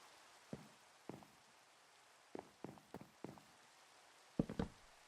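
Rain in the Minecraft game falls as soft, sparse taps and drips, a few isolated patters spaced irregularly and heard quietly against near silence.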